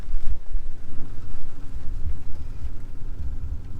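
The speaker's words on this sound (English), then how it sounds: "the rain is definitely picking up" Heavy rain from Hurricane Milton roars steadily outdoors, a dense, loud wash of downpour with gusty low rumbling and no speech.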